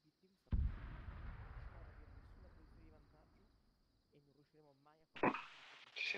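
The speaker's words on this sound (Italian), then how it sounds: "Si sente un'esplosione in lontananza" A distant explosion in a military video game booms as a sudden low burst and fades into a long rumbling tail, then a second sharp blast follows near the end, with quiet radio-like voices in between.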